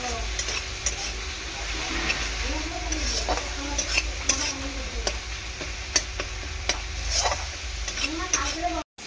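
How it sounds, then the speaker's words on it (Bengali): Turmeric, chilli and cumin powder fry in a pan with a steady sizzle while a utensil stirs and scrapes in repeated strokes, close and fairly loud. "হলুদ গুঁড়ো, একটু লঙ্কার গুঁড়ো আর একটু জিরের গুঁড়ো দিয়ে মশলাটাকে প্রথমে ভালো করে কষিয়ে নেবে"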